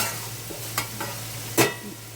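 Tomatoes cooking in a covered pan, a soft steady simmering hiss over a low hum, broken by a few brief scraping stirs. One stir stands out louder near the end.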